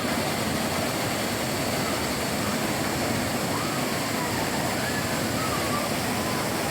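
Water pours steadily from a mountain through forest near Manimuthar Dam, Manjolai, in a constant broadband rush, like a stream tumbling downhill, filling the scene without pause.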